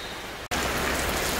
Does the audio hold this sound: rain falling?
yes